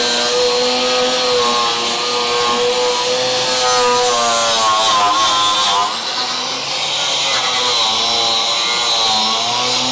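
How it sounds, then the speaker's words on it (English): Stainless steel wire brush scrubbing a Dodge Charger crew cab frame rail, a continuous harsh loud rasping with slight rhythmic swells over ten seconds, no talk. "This stainless steel wire brush is getting to its last legs."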